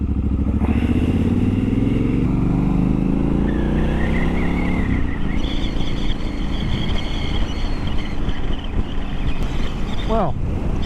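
Triumph Scrambler 1200XE motorcycle fitted with a Vance & Hines decat exhaust, engine droning steadily as it pulls and climbs through revs on a ride, loud and close with constant wind rush, ending in a brief rising whine.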